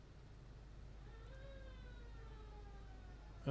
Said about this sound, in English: You could probably hear the siren in the distance.